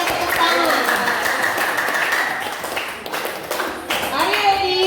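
A classroom group claps in support during a lesson activity, bursts of hand clapping mixed with children's voices and chatter, fairly loud and close, with a sharp spike of claps near the end.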